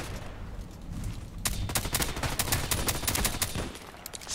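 A VSS Vintorez suppressed rifle fires a quick burst of muffled, snappy shots in a video game, about a dozen rapid cracks in close succession after a quieter lead-in.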